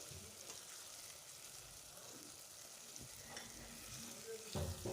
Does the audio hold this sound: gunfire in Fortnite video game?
no